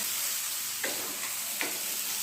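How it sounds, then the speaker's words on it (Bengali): Soybean chunks fry in a pan with a steady, soft sizzle, broken twice by brief louder crackles as they are stirred or turned. "সয়াবিনগুলো ফ্রাই করা হচ্ছে"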